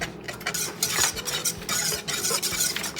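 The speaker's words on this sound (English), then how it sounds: "I will use a whisk to just whisk it all together real quick." A whisk and spatula work quickly through a mixture in a bowl, giving a dense, continuous run of rapid scraping and clattering strokes up close, with no voices.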